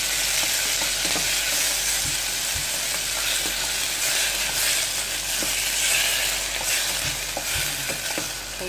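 Tomatoes sizzle in a pan for sinigang while being stirred, with a constant frying hiss and scattered scraping and clinking of the utensil, close and alone without talk.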